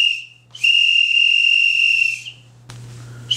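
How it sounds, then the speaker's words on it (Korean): A crane signaller's whistle gives one long, loud, steady blast of about two seconds, with a brief chirp just before it and a low background hum. "호각등을 사용하여 운전자와 신호자의 주의를 집중시킵니다"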